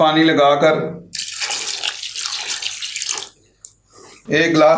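A glass of water poured into beef karahi cooking in a pressure cooker: a brief splashing pour lasting about two seconds, set between stretches of a person talking.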